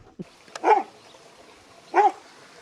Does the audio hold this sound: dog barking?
yes